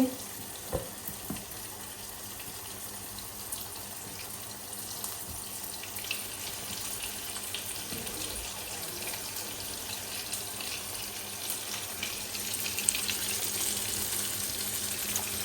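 Homemade chicken chaap frying in a pan, a steady broadband sizzle that runs the whole time at an even level, with a few faint clicks and knocks of utensils and no talking.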